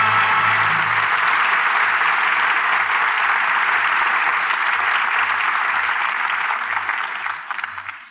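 Studio audience applause at the close of a Lux Radio Theater radio play, a broad sustained wash of many hands clapping that holds steady and then tapers off at the end.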